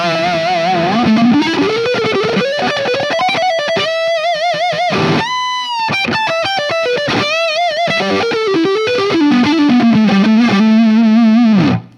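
Electric guitar through a $30 overdrive pedal, playing a continuous distorted lead line with bends and quick runs, loud, thick and close throughout, with no talking.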